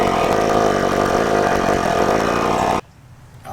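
Michelin 12V single-piston digital tire inflator running, a loud, steady buzzing motor close by that shuts off abruptly near the end.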